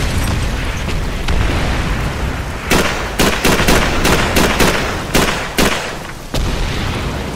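Vehicle explosion in Call of Duty 3, a heavy boom followed by a rapid string of sharp blasts and gunfire bursts over a dense battlefield roar, loud and close with no talk.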